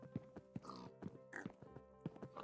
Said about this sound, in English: Alright, the pigs are in the arena.